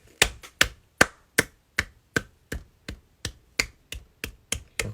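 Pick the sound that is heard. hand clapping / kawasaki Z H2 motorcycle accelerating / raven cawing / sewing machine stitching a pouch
hand clapping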